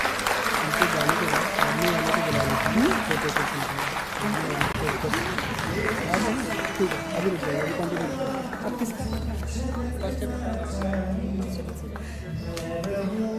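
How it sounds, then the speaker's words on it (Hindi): Audience applause at a Delhi government annual awards ceremony, a steady wash of clapping from a large crowd under a presenter's amplified voice and background music. "तालियों की गूंज से मिलकर एक बार हना के जज्बे को भी सलाम करते हैं"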